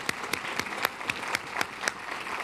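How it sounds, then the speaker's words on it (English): A quick round of applause at an opening-remarks gathering with a champagne toast, a small group clapping at close range with sharp, distinct claps in a steady rhythm, no talk over it. "A quick round of applause."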